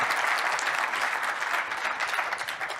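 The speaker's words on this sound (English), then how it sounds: "Big round of applause." Audience applause at a Mac admin conference session, dense and steady clapping from a crowd that stays loud and sustained throughout.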